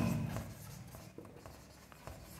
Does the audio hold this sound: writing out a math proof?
yes